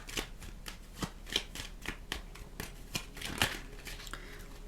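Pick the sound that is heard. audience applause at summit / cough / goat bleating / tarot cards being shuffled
tarot cards being shuffled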